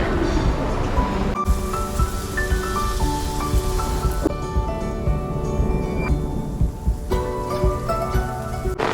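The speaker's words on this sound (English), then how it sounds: "It was raining when we were at the churro place, but now it's absolutely belting down" Heavy rain pounds down steadily in Alicante during a stormy day, a dense continuous wash close by with a ringing tonal sound layered over it and no clear thunder.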